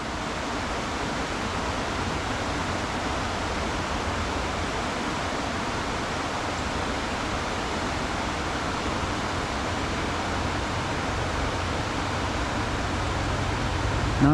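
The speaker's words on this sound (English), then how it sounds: "Listen to this river for a minute." A river rushes steadily at Sycamore Shoals in Elizabethton, Tennessee, a dense, continuous broadband roar of flowing water heard close and loud without pause.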